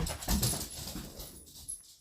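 Dog whimpering and panting in the middle of a dog and cat fight, a close, ragged run of whines and breathy pants with louder bursts near the start, no talking.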